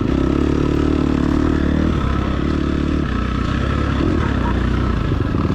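Motorcycle engine revving steadily as the throttle is twisted during a race, a continuous loud mid-pitched drone that shifts slightly in pitch partway through, with no talk over it.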